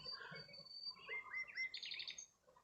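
A common nightingale sings a varied run of chirps, whistles and rapid trilled notes, faint and distant against a quiet outdoor background with no talking.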